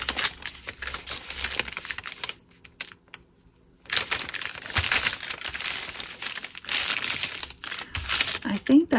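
Packaging paper crinkles and rustles close by in busy, uneven bursts, pausing briefly midway before resuming.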